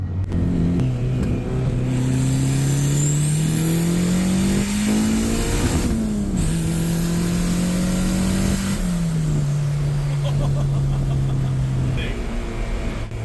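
A turbocharged Honda Civic engine accelerating through the gears, the engine note rising steadily, dropping at each shift, then climbing again, loud and close from inside the car, with faint turbo whine above.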